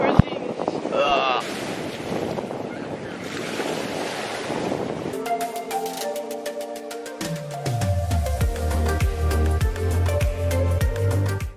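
Sea surf and gusting wind on a Mallorca beach roar loudly and steadily for about five seconds, then give way to a different, more tonal mix of sounds.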